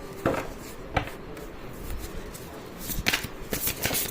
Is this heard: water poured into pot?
no